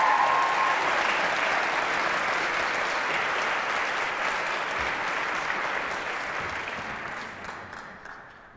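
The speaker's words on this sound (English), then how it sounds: "a huge round of applause for CIT for getting this far." A hall audience at a live-streamed event gives a big round of applause for the CIT team, sustained thick clapping from many people that stays strong and slowly tapers off over the final seconds.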